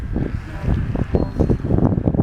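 Strong gusting wind buffets the microphone in a steady low roar during the flying of a huge kite, with no talking.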